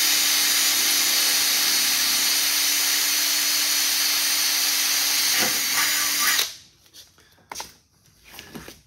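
A rotating cutting tool slices through sheet metal while a tool tray is made, a loud, steady, hissing whine that runs for about six seconds and then cuts off, leaving a few quieter knocks and clatters.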